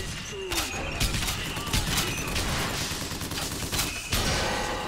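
A volley gun grenade launcher firing in the Bioshock Infinite video game: repeated sharp blasts and thudding explosions spaced through a busy, noisy combat scene, loud and close.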